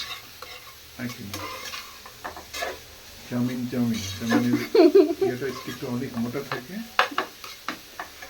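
Chowmein ingredients fry and get stirred in a pan, with steady sizzling and repeated scraping and clinking of a utensil against the pan. A voice talks over the cooking throughout.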